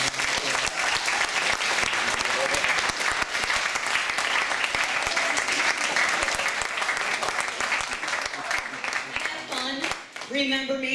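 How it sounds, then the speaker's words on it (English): Audience at an after-prom hypnotist show claps in a loud, dense burst that fills the room and keeps going, tapering near the end as a voice comes in over it. "Nice round of applause."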